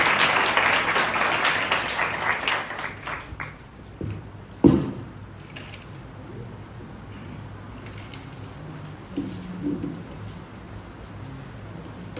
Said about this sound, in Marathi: आपण सर्वजण टाळ्या वाजून त्यांचं स्वागत करूया